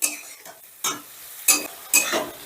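Tomato masala stirred and fried in a pan for a potato and eggplant curry with bori: repeated scraping strokes of a spatula over a steady sizzle, fairly close and loud.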